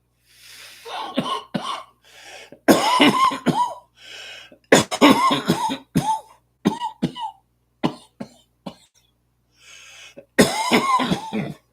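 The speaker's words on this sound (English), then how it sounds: "I'm coughing much better today." Repeated bouts of close coughing, some wet and raspy, with short throat-clearing bursts and pauses between fits.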